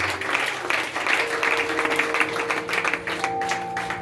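A church congregation claps together in steady, dense applause that fills the room, with a sustained tone rising faintly beneath it and some voices mixed in.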